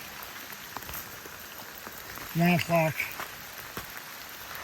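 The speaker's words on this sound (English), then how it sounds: "And it's raining cats and dogs." Heavy rain falls steadily in a dense, hissing patter while someone speaks briefly over it midway through.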